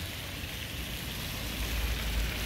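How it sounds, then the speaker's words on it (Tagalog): Steady rain falls over La Coruña, Spain, a soft continuous hiss with low rumbling beneath it and no voices. "Kaya lang umuulan kaya hindi kami makagala."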